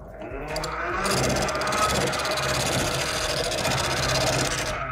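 A pea cutter pencil sharpener grinding graphite finely, a steady loud mechanical whirring buzz that runs continuously for about four seconds, starting and stopping abruptly, with no talk over it.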